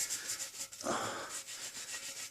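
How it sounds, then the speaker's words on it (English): A shop cloth rubs and wipes grease and dirt off a cracked wheel before welding, soft close-up scrubbing strokes in an uneven rhythm with one firmer swipe near the middle, fairly quiet. "Wipe down the area, get all the grease off, get all the dirt off."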